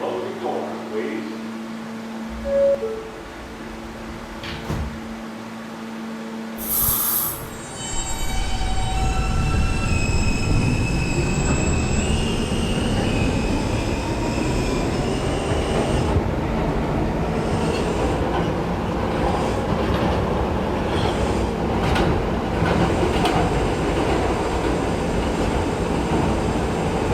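An R160A New York City subway train runs on the K line between stations: a loud, continuous roar of wheels and motors builds after a brief quieter start, with squealing and rail clatter throughout.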